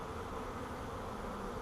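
A swarm of calm wild bees being installed from a swarm catch hums in a thick, continuous drone close by, steady and unbroken with no voices.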